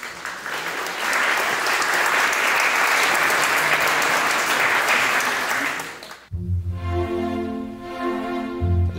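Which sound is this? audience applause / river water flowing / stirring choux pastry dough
audience applause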